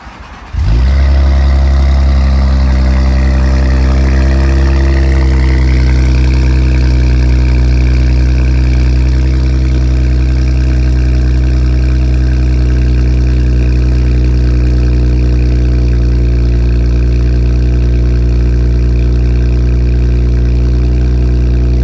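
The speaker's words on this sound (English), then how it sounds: "About to give y'all a little cold start." A loud twin-turbo Infiniti Q50 cold-starts with a brief crank, then flares up and settles into a steady, heavy idle with a deep rumble and a faint rising whine, close and constant.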